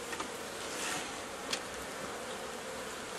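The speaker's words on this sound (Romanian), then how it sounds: "Feresc un pic albinuța." Honey bees buzz around an open beehive in a close, steady drone, with single insects passing by the listener now and then.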